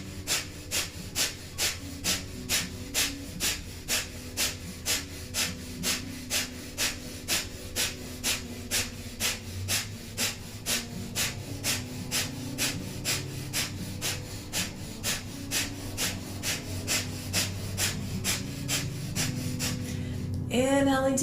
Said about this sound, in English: Last 30 seconds, powerful breath of fire here.